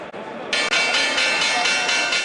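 The stock exchange opening bell rings in a loud, sustained electric clang with rapid pulsing, rising sharply after a short stretch of crowd noise and continuing steadily through the rest.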